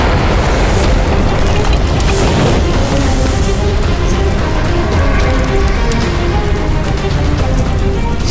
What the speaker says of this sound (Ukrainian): Зараз ви побачите, як вибухне граната.